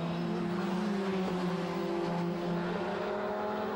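Two-litre prototype race cars in an endurance event at the Dijon circuit, a steady, droning engine whine holding a high pitch for several seconds, fairly close and with no talk.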